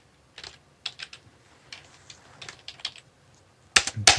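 Computer keyboard keys are tapped during a Dwarf Fortress session, irregular clicks of single presses and quick short runs, with a louder clatter of keystrokes at the end.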